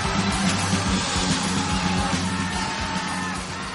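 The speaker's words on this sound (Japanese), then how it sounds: "大声援の観客、観客はこう叫んでいます。" A large crowd at a professional wrestling event in Japan cheers and shouts in a dense, sustained roar around the ring that eases off slightly near the end.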